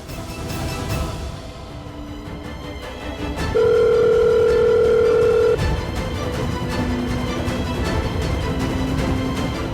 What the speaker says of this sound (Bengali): ফোন তো রিং হচ্ছে